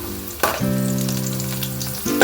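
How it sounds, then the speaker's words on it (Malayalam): Onions sauté in oil in a pan for a Kerala roasted-coconut chicken curry, a close, steady sizzle broken by a couple of sharp clatters of stirring, with a humming tone underneath and no talking. "എണ്ണ ഒഴിച്ച് അതിലേക്ക് കുറച്ച് ഉള്ളിയിട്ട് വഴറ്റിയെടുക്കണം"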